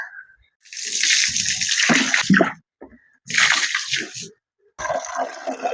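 Water runs from a tap into a container in bursts, filling it for laundry starch, with short pauses between strong gushing pours heard close up.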